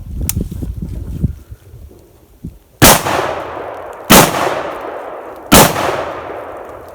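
Three sharp, loud rifle shots of 5.56 XM193 ball ammunition fired outdoors into a tree, each crack followed by a long echoing decay, with wind rumble and scuffling before the first.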